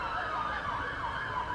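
Emergency sirens wail in the background on a street in Selma, a steady undulating tone rising and falling at moderate distance, heard alone.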